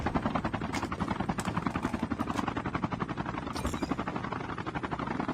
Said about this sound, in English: Why bring the helicopter down here now?